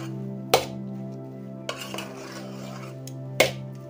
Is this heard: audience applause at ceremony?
no